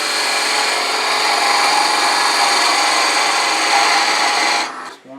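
Walnut box spinning on a wood lathe as a skew chisel shaves its surface, a steady close hissing, rasping cut that holds for several seconds before the tool lifts away and the sound drops off.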